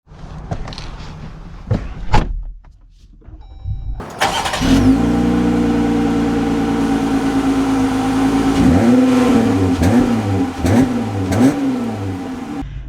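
2024 Jeep Gladiator Sport S engine starts after a few clicks and thumps, then idles and revs up through several rising pulls, loud and close with no talking.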